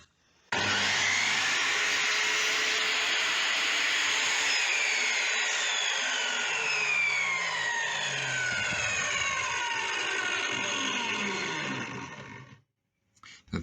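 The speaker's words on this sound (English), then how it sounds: "I was using a fret cleaning saw, which I really recommend" A fret cleaning saw cuts through wood while trimming parts of an old Blackwood television cabinet. It makes a close, steady rasping that runs unbroken for about twelve seconds, then stops, with no talking.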